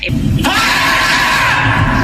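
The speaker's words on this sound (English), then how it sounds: "Screeches, squawks, yelps, whatever you call the noise, it is waking people up in the middle of the night" A snail-eating bird in suburban Cape Coral lets out a loud, sustained harsh screech, close by and continuous for about two seconds, raw and strained in tone.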